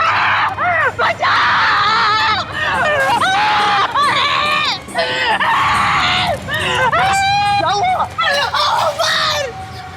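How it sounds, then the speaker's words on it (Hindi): A person screams loudly and repeatedly in a Hindi horror drama episode set at a railway station, with frantic, wavering cries filling the scene and other voices in the background. "क्यों चिल्ला रहे हो?"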